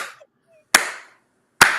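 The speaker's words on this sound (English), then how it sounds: "Man, golf clap." A few slow, deliberate hand claps, widely spaced and sharp, forming a sarcastic golf clap in a quiet room with no talking.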